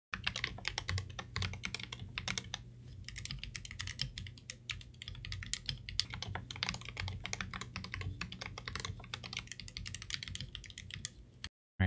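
Rapid, continuous typing on a GK64/GK61 mechanical keyboard with crisp clicky keystrokes, close up, in a steady busy rhythm for about twelve seconds, with a low hum underneath.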